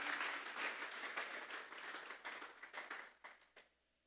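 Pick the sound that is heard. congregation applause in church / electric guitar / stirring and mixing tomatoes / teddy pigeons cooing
congregation applause in church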